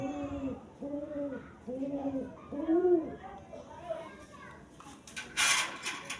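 Pigeons in a loft coo nearby in a regular series of four rounded, throaty phrases, followed by softer calls and a brief rustling burst toward the end.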